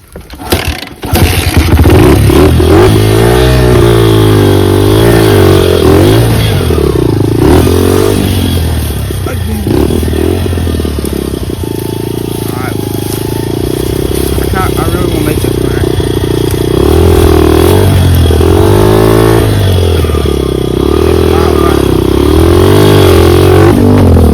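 A dirt motorcycle climbs a trail, its engine revving loud and close in rising and falling surges, with voices heard now and then.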